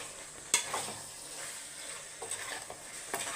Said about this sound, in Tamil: மிக்ஸ் பண்ணிக்கலாம்